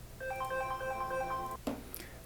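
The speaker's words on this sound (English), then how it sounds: "And I got a phone call to deal with" A phone ringtone plays a short melodic electronic phrase for about a second and a half, then cuts off with a small click or thump, fairly close and without speech.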